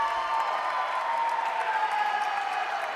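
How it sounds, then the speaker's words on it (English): Home crowd cheering for the Bobcats in a college volleyball match: a steady, dense wash of distant crowd noise and applause sustained evenly throughout, with no distinct voices standing out. "Now a big cheer going around the floor for the Bobcats as the home crowd starts to get into it a little bit"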